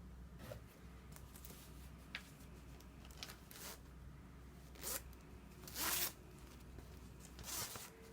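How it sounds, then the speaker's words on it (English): A separating zipper on the packaging of a SilverStar steam iron, model BSP-600, rasps in a few short quiet strokes, with the loudest pull near the end, amid soft handling noises in a quiet room. "So this comes with a separating zipper."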